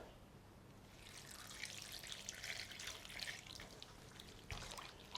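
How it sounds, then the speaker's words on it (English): Water pours and splashes steadily into a container, a soft continuous trickling that swells briefly near the end. "And then we just pour in some water."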